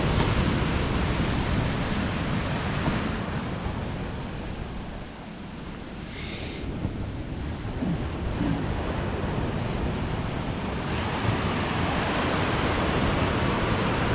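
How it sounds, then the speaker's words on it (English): Surf from the sea rolls in against the cliffs at Cowden on the Holderness coast under steady wind buffeting, a loud, continuous roar of waves and gusts with no voices. "the water's already hitting the cliffs"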